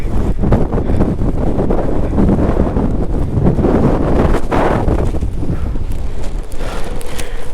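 Strong wind buffets an open microphone on a rainy monsoon motorcycle ride through the hills of Chikmagalur, a continuous loud roaring rush that swells and eases without a break.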